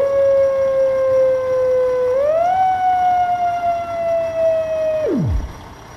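A manually operated emergency vehicle siren in the video game Emergenyc gives one loud, steady wailing tone that steps up in pitch, holds, then drops sharply and winds down as it is cut off.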